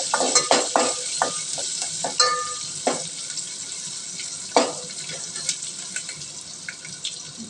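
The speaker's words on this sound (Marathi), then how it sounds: "लसूण चांगला फ्राय करून घ्यायचा" Garlic and curry leaves frying in hot oil for sambar, a bright continuous sizzle with intermittent metal stirring clicks close by.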